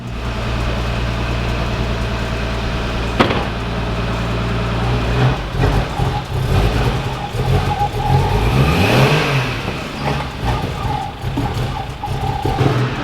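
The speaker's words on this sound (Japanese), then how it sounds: "寒いからアイドリングはラフだね" A Toyota Supra engine idling roughly up close on a cold start, a low uneven rumble that then revs and surges unsteadily, wavering in pitch.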